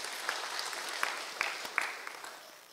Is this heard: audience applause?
yes